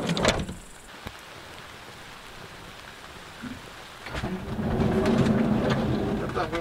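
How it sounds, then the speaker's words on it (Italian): Rain patters on the roof of a 6 m² camper van, light at first and then heavier and denser toward the end, with a sharp knock near the start. "Inizia a piovigginare bene. Ok. No, ma piovigina, cioè piove grosso ma"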